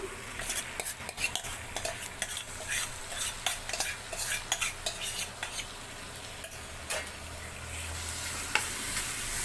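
Onions frying in a pan with garam masala and chili powder for bread masala bajji: a continuous crackling sizzle, broken by frequent close scrapes and clinks of a spoon stirring against the pan.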